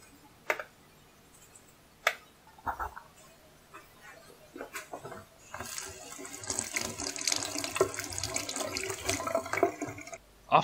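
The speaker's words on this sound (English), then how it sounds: "First we need to peel the potatoes and wash them." Peeled potatoes being washed under a running kitchen tap, a few sharp knocks at first, then a continuous splashing stream of water building and lasting several seconds, close by with no talking.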